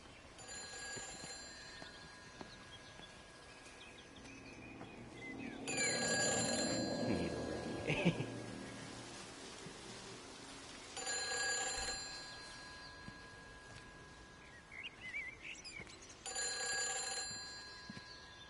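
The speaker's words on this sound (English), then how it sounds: "The phone will ring, but there will be nobody there." A telephone in the video game Everybody's Gone to the Rapture rings in three separate bursts a few seconds apart, quiet and bell-like over a hushed ambient background.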